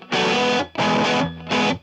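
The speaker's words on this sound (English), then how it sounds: "But then distortion I find is a lot clearer and brighter." An electric guitar run through a distortion pedal plugin in Ableton strikes three loud, bright, gritty chords in an even rhythm, each held briefly then cut off cleanly, with no talking.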